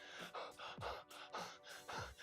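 Rapid, ragged breaths in and out, about five heavy gasping pants in a steady rhythm, close and fairly loud, with no talking.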